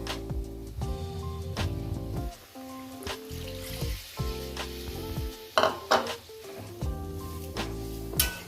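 A small amount of water goes into a hot pan of cauliflower, making a steady sizzle with scattered clinks of a utensil against the pan, under background music.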